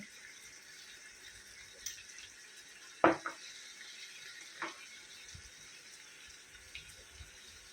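Mutton browning in a pot for a Kokani-style salan, giving a faint, steady sizzle with a few sharp clicks and knocks from stirring, no voices.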